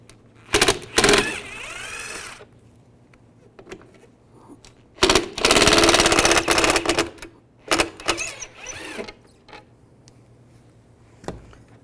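Phillips head screwdriver backing out two tail light screws on a 2002-2009 Chevrolet Trailblazer, giving bursts of close, dry ratcheting clicks and scraping separated by quiet pauses.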